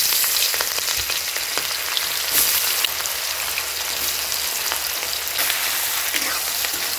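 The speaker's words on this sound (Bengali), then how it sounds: "দেখুন কড়াই পেঁয়াজ দিয়ে দিলাম।" Onions frying in a kadai wok for a chicken curry give off a steady, dense crackling sizzle that holds evenly from start to finish, close and fairly loud, with no voices.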